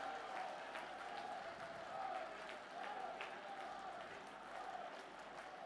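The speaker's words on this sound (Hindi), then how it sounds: "दोनों हाथ ऊपर उठाकर तालियां बजाकर अभिनंदन करें" Steady applause from a large crowd at an outdoor public meeting in Khandwa, Madhya Pradesh, heard from a distance, a continuous patter of many hands clapping throughout.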